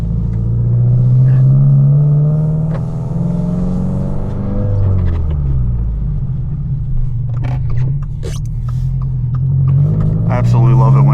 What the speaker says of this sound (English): there's nothing quite like the feeling of driving a WRX while it's snowing